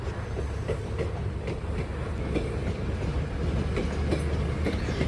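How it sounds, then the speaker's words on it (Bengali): A train rolls across Farakka Barrage over the Ganges River. Its steady, continuous rumble runs through the whole stretch with faint clickety-clack rhythm, and no voices are heard. "ব্যারেজের উপর থেকে খুব সুন্দর একটা ট্রেন পাস করছে"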